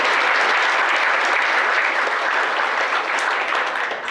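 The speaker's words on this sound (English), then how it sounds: "Give them a round of applause." Audience applause at a Veterans Day ceremony in Fort Walton Beach, Florida: steady, dense clapping from a crowd, loud and sustained throughout with no talk.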